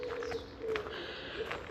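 Birds calling in a large garden in spring, with soft cooing and brief chirps repeating at a distance over a quiet, steady outdoor background.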